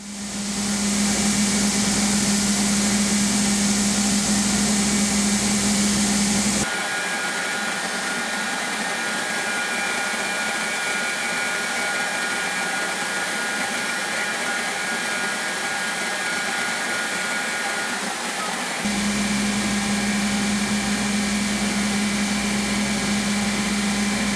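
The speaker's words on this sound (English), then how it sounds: "Now some shaping on the grinder." A grinder shapes a steel knife blade with a loud, continuous whine and hum. The tone shifts to a rougher grinding texture for several seconds in the middle, then returns, with no talking.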